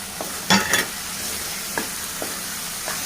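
Tapioca (cassava) being stirred and fried in a pan, with a soft continuous sizzle broken by a few sharp clinks and scrapes of the stirring utensil.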